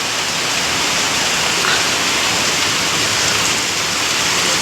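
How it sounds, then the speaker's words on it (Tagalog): Steady afternoon rain pours down in a dense, unbroken hiss that stays loud and even throughout, with no voices. "Maghapon ng ulan."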